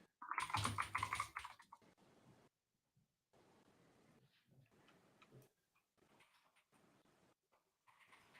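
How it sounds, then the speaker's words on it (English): Computer keyboard typing during a live online call, a dense burst of quick clicks at first, then sparse, faint taps separated by near silence. "We can hear you typing."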